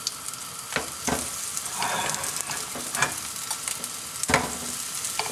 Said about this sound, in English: when you think your burger will start sizzling, you can put it on